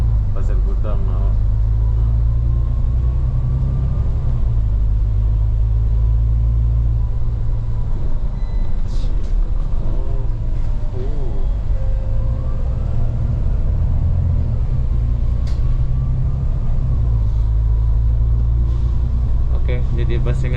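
Bus ride through Singapore's outskirts, a steady low engine rumble and road drone inside the cabin, with a person talking over it throughout.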